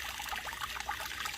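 Water pumped by a sump out of a flooded crawlspace pours from a large discharge hose onto a driveway, a steady close trickling and splashing flow with no talk.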